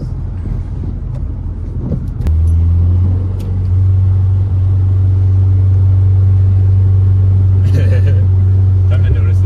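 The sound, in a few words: Mazda hatchback car driving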